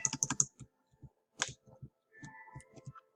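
Typing on a computer keyboard used as game controls: a quick burst of clicky keystrokes, then sparser scattered taps, close and crisp in a quiet room.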